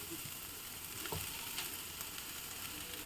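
Crumbled ragi sevai stirred into a pan of sautéed carrots and peas, giving a soft, steady sizzle with a brief scrape of the spoon partway through, faint and close, with no talking.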